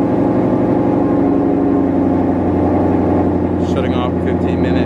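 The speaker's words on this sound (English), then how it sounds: "Engine has been started." A twin turbo 2020 Shelby GT500 engine idling steadily after starting, a loud continuous low rumble, with a brief higher chirping sound near the end.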